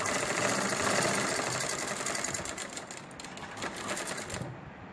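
Sewing machine stitching cloth for fabric flowers, a rapid continuous mechanical rattle of needle strokes running close and steady before cutting off near the end, with no talking.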